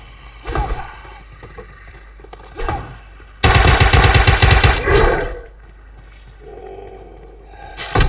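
Gunfire in the PUBG battle royale game comes as a couple of short distant bursts, then a loud, close, sustained stretch of automatic fire. The shooting fades back to quiet, with one more shot at the end.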